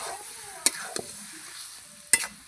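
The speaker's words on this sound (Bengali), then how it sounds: "এবার ভালো করে নাড়িয়ে নেব।" A spatula stirring cabbage with catla fish head in a frying pan, a faint low sizzle under a few sharp scraping clacks of the utensil against the pan, spaced irregularly.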